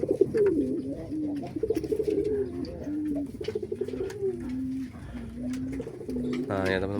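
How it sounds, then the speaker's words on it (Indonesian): Pigeons cooing inside a coop of young birds, a steady run of low, throaty rolling coos repeating close by, with a brief sharper call near the end. "udah lumayan banyak ya anakan merpati saya"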